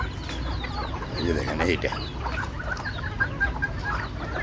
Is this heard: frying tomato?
no